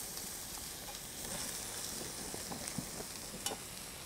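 Beef bulgogi sizzling and frying in a hot pan, a steady faint hiss with small crackles and stirring scrapes, heard alone without talk.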